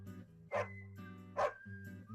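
Two quiet barks from a dog, spaced about a second apart, over a constant low droning hum with no voices.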